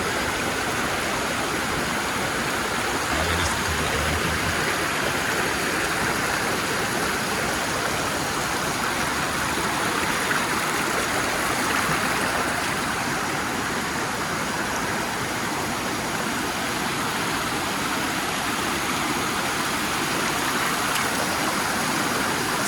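Steady rushing water flows continuously, a dense even wash of sound like a stream or spring running nearby, with no voices.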